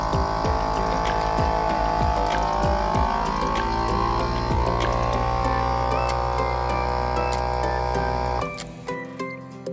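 A Foodsaver vacuum sealer pumps air out of a bag and seals it with a steady, close motor hum for about eight seconds, then cuts off, leaving a few faint clicks. No one speaks.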